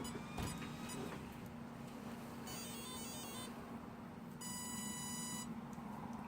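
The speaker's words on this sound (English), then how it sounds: "that's the Castle Creations Mamba X speed control beeping at you" Castle Creations Mamba X speed control on a Traxxas TRX-4 RC truck emits two bursts of rapid electronic beeping, close and clear over a steady low hum.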